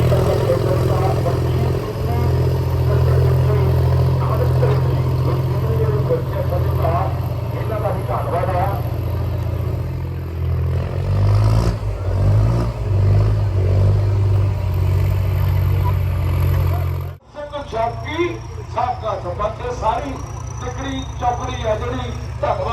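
A four-cylinder John Deere tractor runs at a village trolley-pulling contest in Fatehpur near Morinda, its engine droning loudly and steadily beneath continuous talk before dropping off abruptly near the end.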